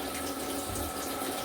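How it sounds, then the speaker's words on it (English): Warm water runs from a tap into a pot of broccoli that has been doused with vinegar, making a steady, close rushing and splashing that stays even throughout, with no talking. "Now I'm gonna pour a little bit of warm water"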